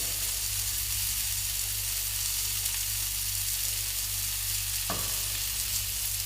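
Oil heating in a pan for a fish gravy with green pepper, giving a constant soft sizzle and hiss with a low steady hum underneath and one brief sharp tick, and no one talking.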